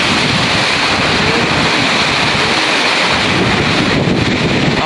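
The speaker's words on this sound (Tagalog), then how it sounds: "Sobrang lakas na ng ulan ngayon dito, grabe." Torrential rain driven by wind lashes a pigeon loft, a loud, continuous roar with gusty buffeting swells and no talking.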